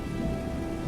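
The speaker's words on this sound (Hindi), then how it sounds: "देखते ही देखते बारिश इतनी तेज होने लगी कि गांव में बाढ़ तक आने की नौबत आ गई थी।" Heavy rain pours steadily over a village with low thunder rumbling underneath, a dense continuous wash of sound with no voices.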